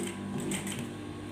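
A sewing machine stitches along the pocket edge of a winter garment, making a quiet, steady, rapid mechanical whir with fine ticking throughout.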